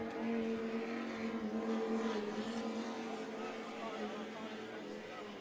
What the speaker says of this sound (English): Miss Geico coming back around for another one of their laps.